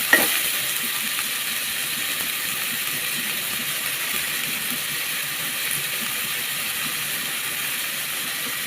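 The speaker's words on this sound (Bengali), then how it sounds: "পেঁয়াজ কুচিটা একটু ভেজে নিতে হবে।" Chopped onions frying in oil in a pan for a fish dish, a steady, loud broadband sizzle and crackle that runs the whole time, with a brief clatter at the start and no talking.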